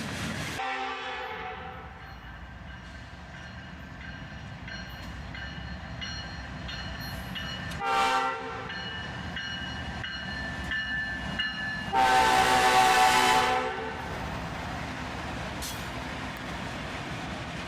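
A freight train with an SD40-2 locomotive trailing in the lash-up rumbles past steadily, its horn sounding in sustained harmonic blasts near the start, again briefly around the middle and loudly near the end.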